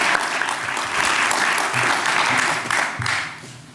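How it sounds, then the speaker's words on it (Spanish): An audience claps steadily for a few seconds in a hall, a dense, sustained applause at a workplace management report event, fading slightly at the end. "Un aplauso aquí."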